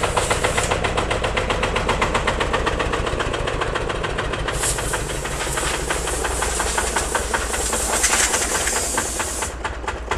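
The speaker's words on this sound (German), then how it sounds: "der hat einen Einzylindermotor" A single-cylinder 12 hp engine on an Allgaier A111 tractor runs steadily, its rapid even chugging beat loud and close, with a bright hiss layered over it and no voices.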